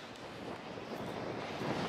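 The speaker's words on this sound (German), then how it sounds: "dass man mich nicht versteht durch die ganzen Windgeräusche." Strong storm wind at a wind farm with Vestas V150 and Eno126 turbines, a continuous roaring rush buffeting the microphone, steady and fairly loud.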